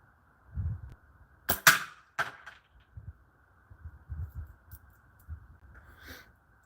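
A slingshot is fired outdoors, giving a few sharp, quiet snapping clicks, with two close together and then faint scattered rustles in an otherwise hushed setting.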